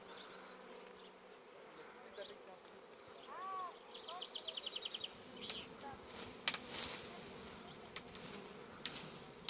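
A honeybee swarm settled fairly high up buzzes in a steady outdoor drone, with a few individual bees zipping past more loudly and faint speech in the background.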